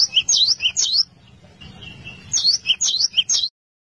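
Java sparrow (gelatik wingko) singing: bursts of bright, clipped chirping notes, a pause with a thin sustained whistle, then another burst of rapid chirps, close and clear with no voices.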